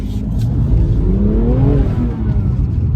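A BMW M2 Competition engine revs while drifting on a damp surface, its pitch climbing and falling over a heavy low rumble of road and wind noise, loud and close.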